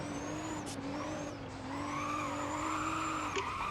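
A Porsche drifting in the Roblox driving game Driving Empire, with a steady engine drone and long squealing tire skids that rise and bend in pitch, fairly quiet and without talk.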